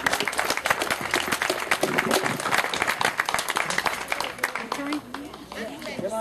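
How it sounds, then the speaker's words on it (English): An audience at a charity open day and barbecue applauds with dense, continuous clapping, and a few voices mix in. "Can I suggest we just have another round of applause to thank Margot"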